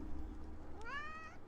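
A single in-game cat meow from Minecraft, rising and gliding in pitch, short and fairly faint over a low steady background hum.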